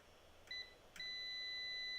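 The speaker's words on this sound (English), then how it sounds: "we have a beep and we have 0 ohms" A multimeter gives a short beep, then a steady continuity tone, while testing a shorted 12 V rail on an IBM 5150 expansion card. The tone is thin and high, fairly close, and plays over a faint background hiss.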